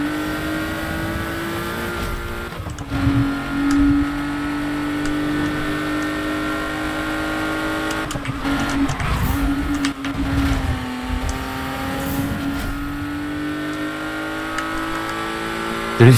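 Porsche 911 Carrera RSR engine in a racing video game, a loud, sustained drone that shifts pitch with brief revving surges and gear changes, with no talk.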